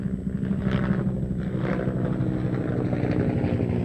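A helicopter flies over open water during a windsurfing shoot, its rotor making a loud, steady low drone that pulses throughout and is roughened by wind buffeting the microphone.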